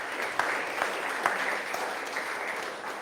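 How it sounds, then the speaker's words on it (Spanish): A church congregation applauds steadily during a sermon, a sustained patter of many hands clapping at moderate volume, with no voices over it. "Dale una ofrenda de palmas a Jesús."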